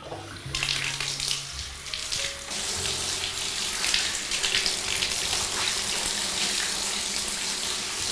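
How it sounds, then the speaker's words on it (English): Running water rinsing a bathtub, a steady rushing splash from the tap that begins after a few clicks and knocks and continues loud and unbroken to the end. "And then a very good rinse."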